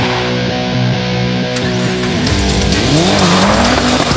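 A car drifting and fishtailing with hard braking, loud sustained tire squeal and skidding over a revving engine whose pitch rises and falls, close by.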